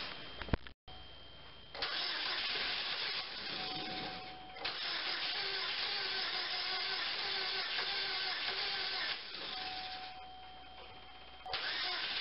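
A 2003 Chevy Cavalier with a 2.2L Ecotec engine, just after timing chain replacement, cranks over and over in steady, loud bursts, pausing briefly between attempts as it struggles to catch.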